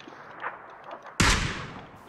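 A single PUBG rifle shot: a loud, sharp crack after a stretch of quiet, faint clatter, followed by a short, fading echo.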